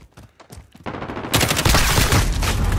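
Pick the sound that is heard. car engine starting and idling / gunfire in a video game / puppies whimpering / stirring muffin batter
gunfire in a video game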